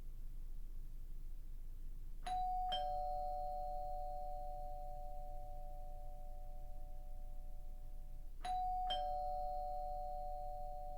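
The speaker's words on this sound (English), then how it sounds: "As the doorbell rang and rang" A doorbell chimes twice, each a two-tone ding-dong, several seconds apart, ringing out clearly over a faint low background hum.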